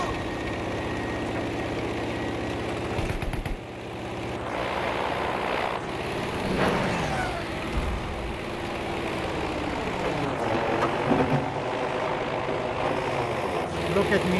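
Aircraft engine droning steadily in Battlefield V on the Iwo Jima map, a continuous loud hum that shifts in pitch as the plane maneuvers, with a voice talking over it.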